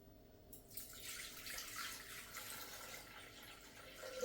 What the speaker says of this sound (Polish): Wlewamy do naczynia 500 gramów wody.